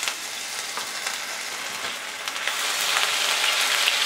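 Dried red chillies, grated ginger and whole spices fry in hot oil over a low flame, giving a steady, close hiss of sizzling that swells a little louder toward the end, with no talk.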